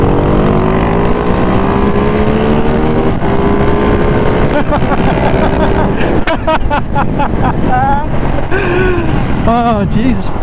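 A KTM 690 SMC R or Ducati Mono 698 single-cylinder motorcycle accelerates hard in third gear from about 30 mph, a loud rising engine roar with strong wind buffeting, and voices cut in briefly toward the end.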